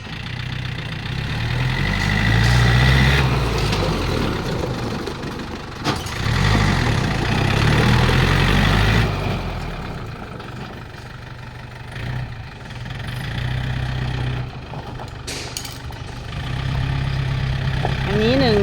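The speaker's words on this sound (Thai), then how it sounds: "ฟังเสียงเครื่องของตัว 494T นะคะ" A used Yanmar 494T tractor fitted with a dozer blade idles nearby, giving a steady low diesel rumble that swells and dips slightly, while someone talks over it.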